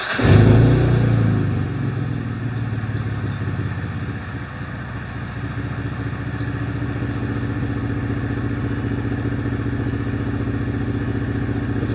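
A car engine cranks and fires with a loud catch, then settles into a steady idle rumble that continues close by for the rest of the stretch.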